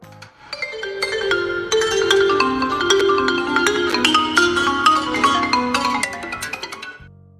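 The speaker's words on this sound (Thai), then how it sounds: "ไซโลโฟน" Bright struck mallet notes ring out in a quick melodic run, each tone sharp at the attack and briefly sustained, played alone with no voices.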